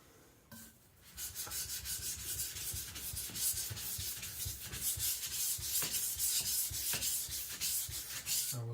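An IKEA Chinese cleaver is stroked against a whetstone with steady, rhythmic scraping passes, close and clear, repeated back and forth without pause.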